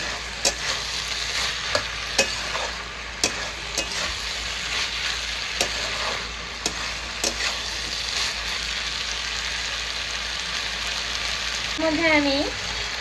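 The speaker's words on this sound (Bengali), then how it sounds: "ভাজা ভাজা করবো।" Ginger paste fries in a pan for a Bengali fish-head chyachra, with steady sizzling broken by repeated sharp scrapes of a spatula stirring, close and fairly loud, and a brief higher rattle near the end.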